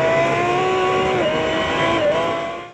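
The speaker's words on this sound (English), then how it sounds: "Out back is a 700 horsepower twin-turbo V12 from AMG" A Pagani Huayra's 700-horsepower twin-turbo AMG V12 roars loud and close, holding a sustained high-revving engine note with slight pitch shifts before fading briefly at the end.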